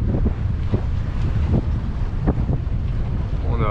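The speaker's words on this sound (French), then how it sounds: "petite navigation sous voile." A sailboat under sail leaving the Théoule anchorage in about 8 knots of wind, with heavy wind buffeting and rushing water around the hull, steady and close, with a few brief bumps.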